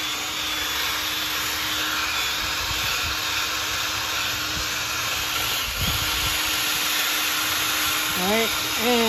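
A machine polisher buffs a plastic car headlight during a restoration, giving a steady whirring motor hum with a faint dip near the middle, loud and close; a brief squeaky sound appears at the end.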